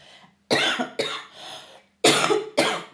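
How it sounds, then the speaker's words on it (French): Several harsh coughs, close and loud, come in two quick pairs separated by a short pause. "pardon, j'en tousse"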